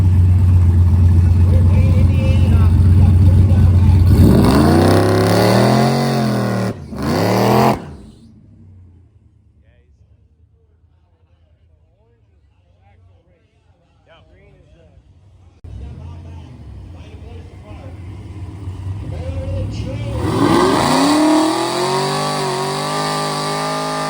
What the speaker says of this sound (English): Superchargers are loud.